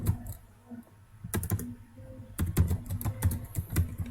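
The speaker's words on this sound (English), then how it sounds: "let me try to type the class name" Fingers type on a computer keyboard while entering a Java class name, with sparse clicks at first, then quick bursts of close, crisp keystrokes and a few heavier key presses.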